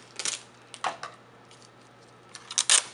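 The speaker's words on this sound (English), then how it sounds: "cut a small length of tape" Adhesive tape peeled off the roll and cut to length for re-taping the seam of a simple tape cast mold, heard as a few short, close crackling rips and snips spread across a quiet background.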